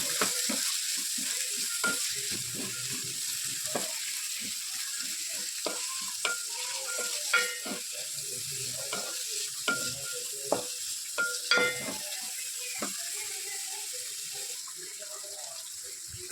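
A spoon stirs egg rice ingredients, including spring onions, green peas and onions, in a hot frying pan, with repeated scraping and clinking strokes over a continuous hissing sizzle, close and moderately loud.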